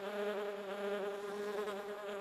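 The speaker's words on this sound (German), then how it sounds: "hier spielen wir irgendeine Fliege" A fly buzzes continuously in the video game The Plan, its steady, tonal drone wavering slightly in pitch, close and alone without any voices.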